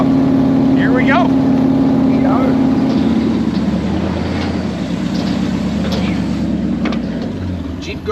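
A loud, steady engine drones close by while another vehicle drags a 1996 Land Rover Discovery, running on front-wheel drive only, up a steep off-road hill. The drone holds constant with faint voices underneath.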